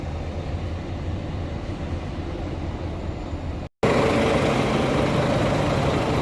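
A bus's Volvo engine drones steadily and loudly with broadband rumble at a bus terminal, briefly cutting out for a split second before resuming just as loud.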